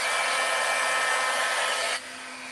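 Heat tool blowing hot air over embossing powder on a handmade card, a loud steady whooshing hum with a faint whine that runs close and alone, then drops to a quieter level near the end.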